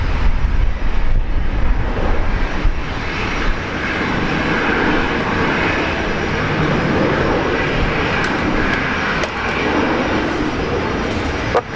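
A heavy jet airliner on landing approach at Brisbane Airport, Australia, a loud, steady broadband engine roar that holds throughout with little change, no voices over it.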